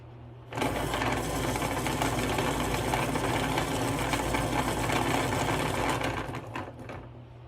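A drawing pencil is sharpened with a steady, loud mechanical whirring grind that runs for about six seconds, then cuts off abruptly. No voices are heard.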